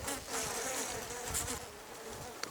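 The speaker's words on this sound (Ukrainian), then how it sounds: "А тут бджола" Dense, continuous buzzing of many bees close by in a hive in winter, a steady droning hum with no voices.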